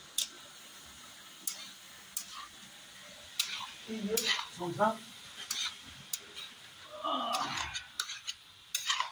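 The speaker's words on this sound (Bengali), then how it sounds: "নেড়ে নেবো।" Fried rice is stirred in a pan, with scattered sharp scrapes and clinks of a spatula against metal over a quiet background, a few clustered bursts of stirring in between.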